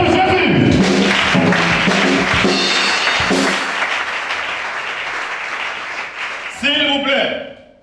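A church congregation acclaims Jesus with loud applause and cheering voices, sustained clapping and shouts that gradually thin out, then a sudden burst of vocal acclaim near the end.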